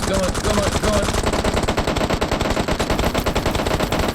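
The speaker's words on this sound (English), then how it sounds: "Oh, shots." Rapid bursts of automatic gunfire from a PUBG Mobile match crackle loud and dense for about four seconds, with a faint voice underneath.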